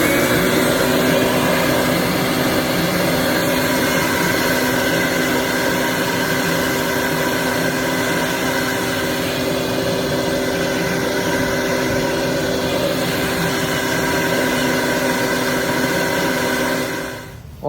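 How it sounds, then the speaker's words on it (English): A shop vac runs steadily against a car tire on a GM vehicle, a loud, unbroken roar with a whining hum that holds for many seconds before starting to wind down at the very end. "I'm gonna stick this end on this side and turn the vacuum on."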